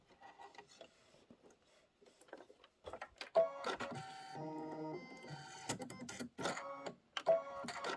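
An embroidery machine sews tab placements for a crossbody bag, giving rapid mechanical stitching bursts with pauses between them and faint rubbing handling sounds, fairly quiet and close, with no speech.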